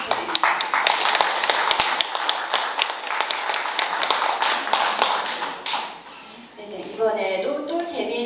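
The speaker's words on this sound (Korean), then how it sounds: "다시 한번 큰 박수 부탁드립니다" An audience at a literary commemoration event for a Korean author gives sustained applause, with dense, loud clapping that fades toward the end as a voice begins speaking.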